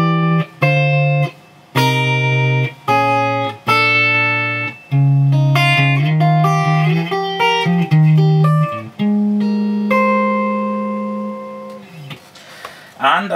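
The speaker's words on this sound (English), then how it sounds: "clean signal through the pedal board, just straight into the Hughes & Kettner there" Clean electric guitar played straight through a Hughes & Kettner Statesman amp with a touch of spring reverb, ringing chords and single notes in a steady phrase, close and full with a short reverb tail.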